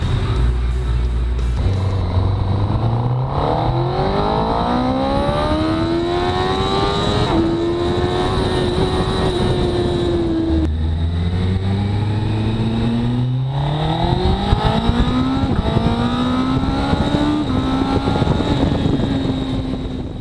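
A 2019 Honda CBR1000RR Fireblade SP sportbike being ridden hard, loud close engine revving up through the gears with rising pitch, shifting, then revving up again, with steady wind roar throughout.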